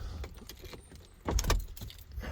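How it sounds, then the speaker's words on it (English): A key turns in the ignition of a VW Golf Mk6 with a faint jangle of keys and a soft click close by inside a quiet car. "and turn my ignition on"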